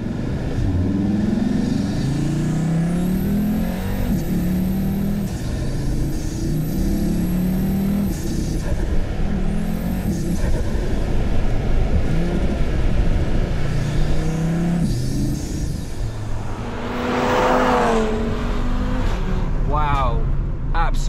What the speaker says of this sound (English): if I flatten now, look, see, it takes a while and then it spools the turbo almost